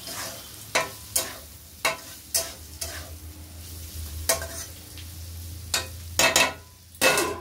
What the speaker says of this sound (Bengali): এটা একটু নাড়া দিয়ে দেয়, ইচ্ছেটা ফুটে যাবে, নাড়া নেড়ে দেয়